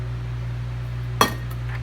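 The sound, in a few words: eggs being added into the mixer bowl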